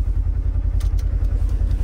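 A 2024 Polaris Xpedition side-by-side idles at about 1,250 to 1,300 RPM, giving a steady, rapid low throb from close range with no talking.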